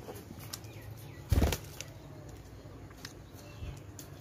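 Pet budgerigars flutter in a home cage. One loud burst of wing flapping rises from quiet rustling, followed by a fainter second flutter.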